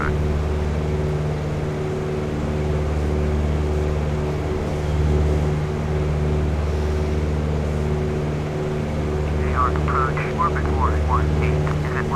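A steady single-engine Mooney Bravo propeller plane drones in flight throughout at a constant level, with someone talking over it for most of the clip.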